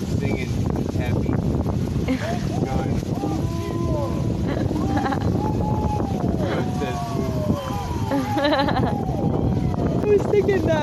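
A sailboat underway on the passage to Carriacou creaks steadily through its rigging and hull, with drawn-out, rising and falling groans over constant wind and water rush close to the microphone.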